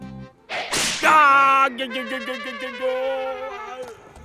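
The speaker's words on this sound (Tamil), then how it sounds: "கட்டையில இருந்து சாட்டைக்கு மாறிட்டாங்க." A whip is lashed in a Tamil television drama, one sharp crack followed by a long ringing tone, with voices speaking around it.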